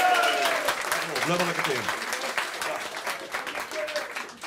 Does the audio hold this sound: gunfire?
no